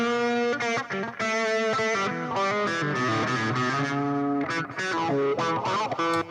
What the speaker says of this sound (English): listen just to what the stereo delay is actually doing